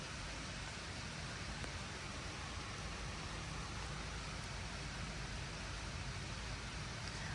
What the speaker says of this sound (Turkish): Yağmur bayağı bir şiddetli yağıyor.